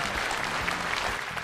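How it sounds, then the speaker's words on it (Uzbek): A game show audience claps in a steady, dense burst of applause with no voices over it. "Olqishlaringiz."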